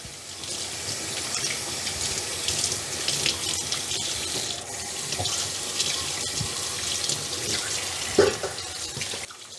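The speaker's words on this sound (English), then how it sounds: "Wash the bones very carefully." Parboiled beef bones being rinsed under a running kitchen tap for pho broth, a steady close stream of water splashing into a sink with occasional clunks of bones throughout.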